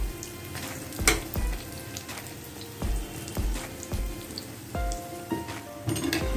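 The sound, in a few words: medu vada (urad dal fritter) frying in oil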